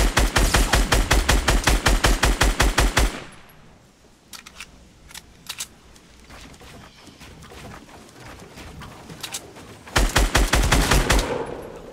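Rapid bursts of automatic gunfire from Fortnite Battle Royale, loud and close, with a long volley opening the moment, a few scattered single shots in the middle, then another sustained burst at the end.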